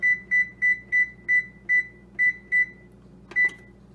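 Oven control panel beeping as it is set to preheat to 400 degrees: eight short, evenly spaced electronic beeps, a pause, then one more beep, clear and close in a quiet kitchen.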